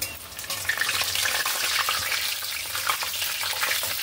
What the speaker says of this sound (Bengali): এলাচ ফল, 2-3 টুকরা দারুচিনি, 2টা তেজপাতা। এটা আমি তেলের ভিতরে দিয়ে এটা একটু ভেজে নিলাম।